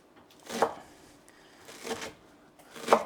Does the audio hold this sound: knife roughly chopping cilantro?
yes